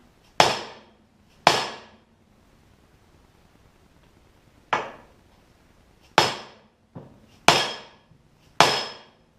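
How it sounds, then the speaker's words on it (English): Six sharp, hard whacks of a plastic dead blow hammer, spaced unevenly with quiet gaps between, each a loud dull impact with a short ring. "give it a good whack with my plastic dead blow hammer"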